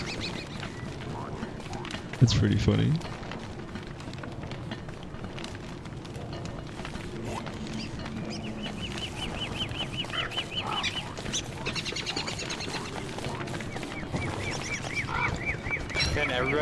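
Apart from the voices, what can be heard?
tall bird calling in a video game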